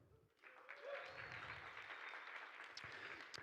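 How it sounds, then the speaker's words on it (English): Applause from a crowd at a global cocktail competition semi-final, greeting a judge; steady, dense clapping starts after a brief pause and holds at an even level throughout, with a few louder claps standing out. "You get 2 claps, Tom."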